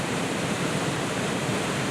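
Wren Falls pours in a steady, dense roar of rushing water, close and constant, with no voices over it.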